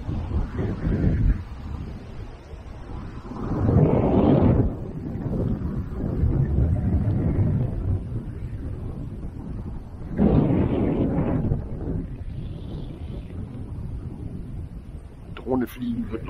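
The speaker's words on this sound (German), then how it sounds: "Teilweise ist es doch wirklich sehr stürmisch." Gusty, stormy wind on a river island in the Weser at high water buffets the microphone in loud, surging bursts, rising around four and ten seconds, with a brief clatter near the end.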